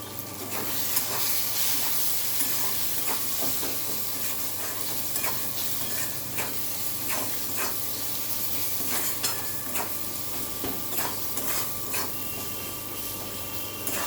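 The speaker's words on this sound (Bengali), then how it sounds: "হালকা করে কষে নেব।" Kudri (ivy gourd) frying in a pan with turmeric, chili, coriander and cumin powders and salt, a steady close sizzle with repeated scraping stirs of a spoon against the pan, no voices.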